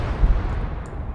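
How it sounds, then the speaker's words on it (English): Mortar fire in a video game battle in Motherland, heard as a deep, rolling boom with a continuous low rumble of fighting behind it. "Okay, the mortars are in play."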